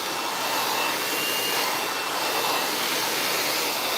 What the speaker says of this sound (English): So that's why I use a brush and a blow dryer.